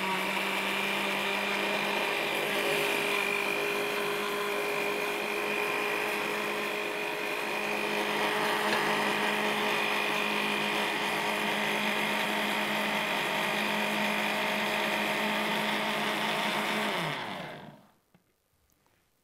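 A blender runs loudly and steadily at high speed for a long stretch, its motor whine constant, then spins down and stops.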